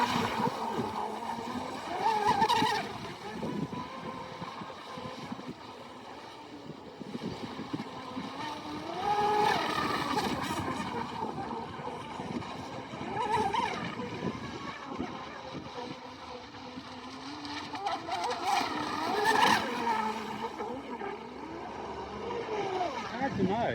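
A radio-controlled model boat's buzzing engine whines up and down as it runs on an open lake, with people talking over it outdoors.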